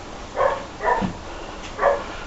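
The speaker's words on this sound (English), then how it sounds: "dogs are barking, it's wonderful" Dogs barking in a home gym setting, three distinct barks spaced about half a second apart at moderate distance, with no talking over them.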